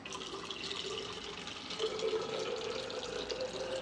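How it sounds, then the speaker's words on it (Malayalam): Water poured slowly from a cup into a bottle drip irrigator for potted plants makes a thin, continuous trickle and gurgle, close but quiet and rising slightly in pitch, with no voices. "വെള്ളം എടുത്തിട്ട് കുറേശ്ശെയായിട്ട് ഒഴിച്ച് പൊഴിക്കുക"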